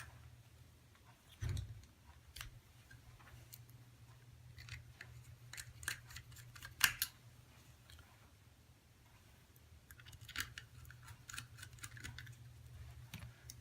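Small metal clicks and ticks come from screws being fitted onto the top of an Altinex TNP155 snap-in plate. The sharp taps are irregular and faint over a low hum.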